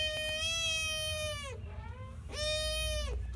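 A cat meowing twice nearby: a long, drawn-out, rising-then-falling meow, a brief pause, then a second shorter meow, loud and clear over faint background noise.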